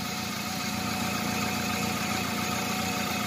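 A Chevrolet U-VA car engine with an electronic throttle body problem idles with the air conditioning off, a steady, close mechanical hum and vibration without any talking.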